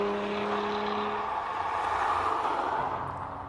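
A hillclimb race car engine at a live qualifying event, heard from a distance as a sustained droning roar that swells slightly and then begins to fade, with a faint tonal hum early on.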